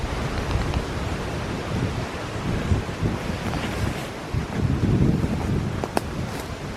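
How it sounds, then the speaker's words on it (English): Strong wind buffets a microphone outdoors along a woodland trail, a loud, steady rumbling roar with gusts swelling and easing, no voices. "It's also really windy"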